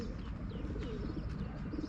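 A pigeon coos softly and steadily nearby, low rounded calls over a muffled background with a faint chirp, no talking.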